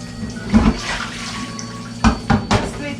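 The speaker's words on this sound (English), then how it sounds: "Just going to be running some water over it." Tap water running over a ham being rinsed in a kitchen sink, a steady splashing stream with a few louder gushes and bursts partway through, heard close and alone.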